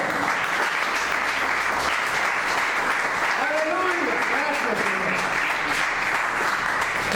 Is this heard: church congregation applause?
yes